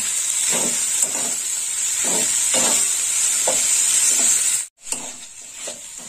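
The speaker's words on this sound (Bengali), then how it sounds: "সিদ্ধ করা মোচা, দিয়ে দিলাম মোচা। মোচা দিয়ে একটু কষে নেব।" Boiled banana flower stir-fried in a pan with spice paste sizzles with a steady hiss, punctuated by rhythmic scraping strokes of the spatula roughly every half second, close and fairly loud, with a brief dropout near the end.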